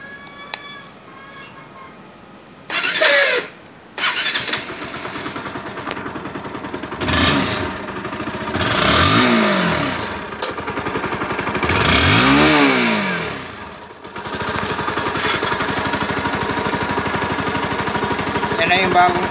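A Honda NS160 motorcycle engine, repaired after running low on oil, cranks with short bursts, then starts and revs in rising and falling sweeps before settling into a steady idle, loud and close, with no talk over it.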